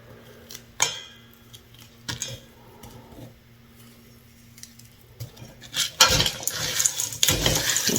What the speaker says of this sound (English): Put my broccoli in there and give it a mix.